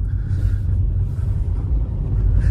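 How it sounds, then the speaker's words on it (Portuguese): Inside a 2024 Hyundai Creta Limited with the 1.0 TGDI engine while driving, a steady low engine drone and road rumble fill the cabin, with no talking. "você leva um tempo para se acostumar com o barulho do motor"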